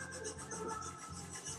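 Soft, close rasping of sandpaper rubbed briskly across waxed paper to roughen it, quiet and brief.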